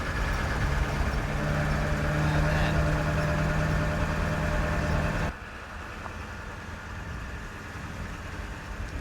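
A pickup truck drags a pop-up camper over a washboarded desert road, a loud, constant rumbling engine drone with rattling jolts that drops sharply in level partway through and carries on more quietly.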